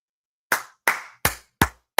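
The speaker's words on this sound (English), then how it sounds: "I'm glad you gave him a round of applause" Five sharp, close hand claps come one at a time at a slow, even pace, each with a short, dry ring after it, and nothing else is heard.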